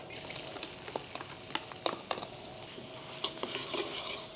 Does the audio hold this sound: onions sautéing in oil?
yes